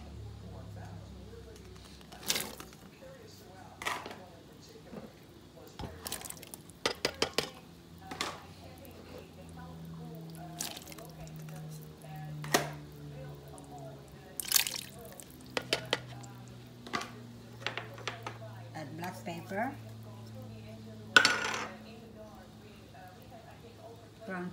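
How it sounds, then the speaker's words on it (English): Carrots and other vegetables tumble into a pot for vegetable beef soup, giving scattered knocks and clatters with soft splashes of varied loudness, close by and under occasional talk. "Just gonna add everything in here, carrots and everything, all my veggies."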